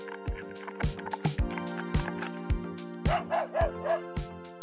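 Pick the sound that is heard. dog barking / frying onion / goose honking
dog barking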